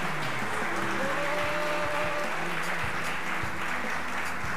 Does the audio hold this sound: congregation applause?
yes